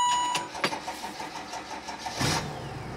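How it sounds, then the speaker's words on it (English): A Mercedes Sprinter van engine starting after an immobilizer bypass, cranking briefly and catching into a steady idle close to the microphone. "vehicle starts"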